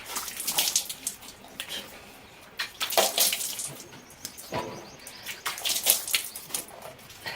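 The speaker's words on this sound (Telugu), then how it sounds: "వీటితో డైరెక్ట్గా మొహం కడుగుతున్నా" Someone washes their face with cold water outdoors, producing repeated bursts of splashing and dripping separated by short pauses, with faint birdsong in the background.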